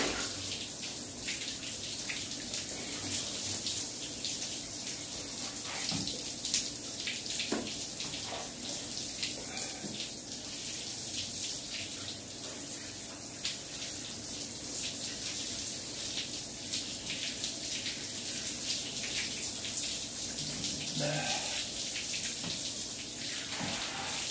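Water runs steadily in a shower while someone rinses off, a constant hiss of spray with a few small splashes and no talk over it.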